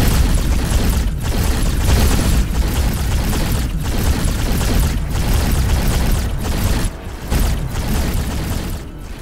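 Heavy incoming weapons fire and explosions from a space battle in the video game X4, a dense, loud, continuous roar of booms and blasts with rhythmic heavy impacts throughout.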